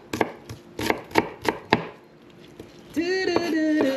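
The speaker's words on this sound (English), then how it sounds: "let's finish cutting the onions" Onions being chopped on a small cutting board, six or seven crisp knife strikes in an uneven rhythm, close, then a brief pause before a faint whiny tonal sound takes over near the end.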